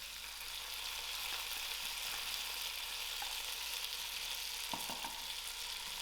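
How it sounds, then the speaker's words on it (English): Ostrich meat going into lightly fried carrots and potatoes sets off a loud, steady, close sizzle, with a few faint clicks of a utensil. "To my lightly fried carrots and potatoes, I'm going to add in my ostrich meat."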